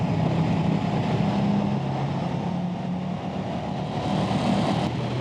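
Moto Guzzi V-twin motorcycle engine roaring inside a road tunnel, a steady, booming drone with a reverberant echo, holding a constant throttle and unbroken for the whole stretch.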